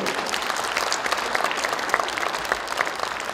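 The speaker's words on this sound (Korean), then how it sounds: "김부겸 의원님께도 박수를 부탁드립니다" Audience applause for Kim Boo-kyum at a Democratic Party leadership convention in Daegu-Gyeongbuk, a steady, dense wash of clapping from a large hall crowd throughout.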